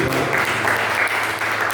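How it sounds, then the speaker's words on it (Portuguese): A church congregation applauds during a Sunday service, producing dense, steady clapping that fills the room at an even, loud level throughout with no pause. "Se eu fosse você, eu tinha aplaudido ao Senhor Jesus."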